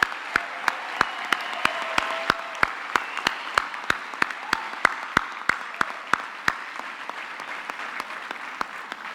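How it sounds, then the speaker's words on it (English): Graduates and guests at a university autumn graduation ceremony applaud in a steady, even wash of clapping, punctuated by regular sharp clicks throughout. "I think we can give them all a hand of applause."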